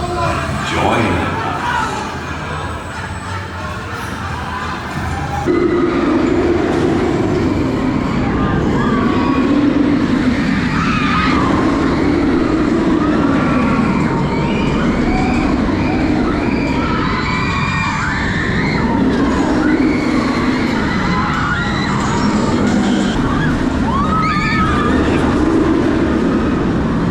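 The Smiler roller coaster at Alton Towers thunders along its track in a loud, continuous rumble that surges and eases, with riders screaming and shouting throughout close by.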